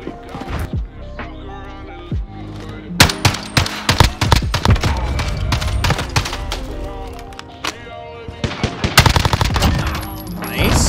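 Rapid-fire AUG rifle in a Search and Destroy video game match, loud close bursts of fast automatic shots with sharp cracks and impacts, repeated through the clip without talk.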